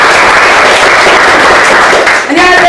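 Dense, sustained applause from a lecture audience at a university talk, loud and continuous, easing briefly near the end as a voice begins to speak.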